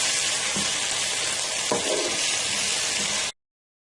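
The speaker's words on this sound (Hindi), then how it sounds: "अब हम इसमें अदरक लहसुन डाल देंगे, और तकरीबन 1 मिनट तक इसको भी जरा फ्राई कर लेंगे" Ginger and garlic fry with onions in hot oil, a loud, close, continuous sizzle with a few faint stirring scrapes, then an abrupt cut to silence.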